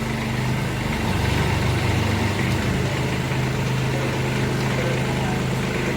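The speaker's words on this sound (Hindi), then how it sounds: "अभी गोद में बैठ के ट्रैक्टर चला रहा है" A Kubota B2441 4x4 mini tractor engine idles and runs steadily close by on a farm field in light drizzle, a continuous loud diesel drone with a low rumbling throb and no talking.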